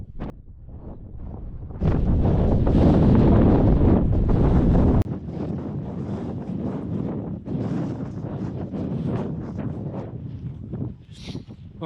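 Strong wind at the Win Hill trig point in the Peak District roars and buffets the microphone in a loud gust lasting a few seconds, then keeps gusting in weaker rushes afterwards.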